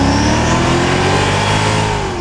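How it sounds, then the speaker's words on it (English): A Mercedes V8 AMG exhaust revs hard, a loud, close roar that rises in pitch and holds steady before easing slightly at the end. "the sound of the exhaust at the back, sounds good"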